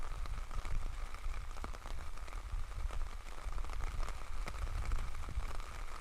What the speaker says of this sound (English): The rain actually looks like it's getting worse.